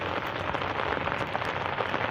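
Heavy rain pours down at sea, a dense, steady wash of drops drumming on surfaces close by, loud and unbroken with no voices.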